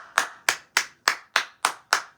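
Seven sharp, evenly spaced hand claps, close and loud, with no other sound between them.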